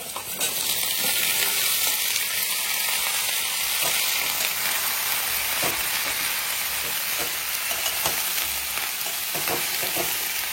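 Jackfruit pieces and onions fry in a pan with a steady, close sizzle and crackle that holds throughout, mixed with occasional stirring scrapes and no voices.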